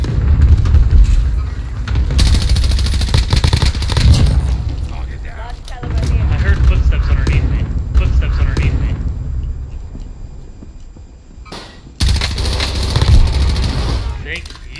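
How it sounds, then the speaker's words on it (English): Video game gunfire in loud bursts, dense rattling shots and booms that start and stop in several long stretches with short quiet gaps between them. "Let's try to figure out who was shooting."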